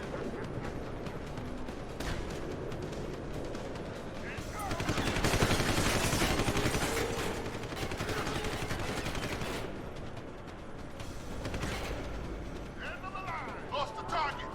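Sniper gunfire in Deus Ex: Human Revolution, loud bursts of shots and rattling fire swelling mid-clip over a busy game soundscape, with a voice talking underneath.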